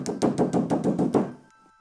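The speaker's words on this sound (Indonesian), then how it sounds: "Suara pintu belakang tiba-tiba digedor-gedor." Heavy fists bang on a back door in a horror-story scene: a close, loud run of about seven evenly spaced thuds over a second and a half, then a quiet fade with no voices.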